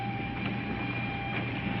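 A train carriage rattling along the rails, a steady rolling rumble with faint clicks and a thin constant whine, heard from inside the car at a moderate level.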